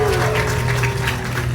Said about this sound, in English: Let's give Lauren and Liv a great big round of applause